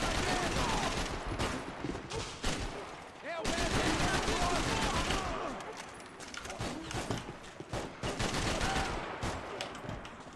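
Dense, rapid gunfire from the video game Max Payne 3, bursts of automatic shots crackling almost continuously and loudly, with a voice talking over them at times.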